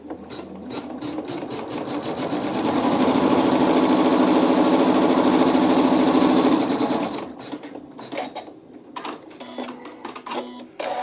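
A sewing machine stitches a tack-down with water-soluble thread, a loud, close, continuous whirring run of several seconds that then stops, followed by scattered handling clicks and taps.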